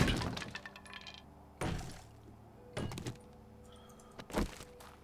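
Glass shattering as a sound trap in the survival game 7 Days to Die, heard as several sharp, loud crashing bursts spaced through a dark, quiet space.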